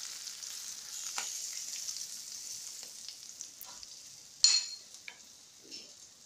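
Fish frying in oil, a soft, even crackle with scattered pops and a sharper splatter or clink partway through, heard up close at low volume with no speech.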